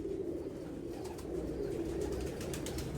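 History Maker pigeons coo softly and continuously nearby, low rolling calls overlapping in a steady murmur.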